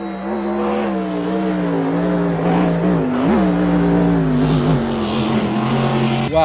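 A red toy racing car gives off a steady, loud, droning engine noise that rises and dips slightly in pitch, heard up close without any talking.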